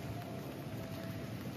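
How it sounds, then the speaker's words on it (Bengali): Rain falls in Kuala Lumpur, Malaysia, near the Twin Towers ahead of a fountain show, making a steady, dense broadband hiss that stays even and continuous throughout with no voices. "এখন বৃষ্টি শুরু হয়েছে এখানে"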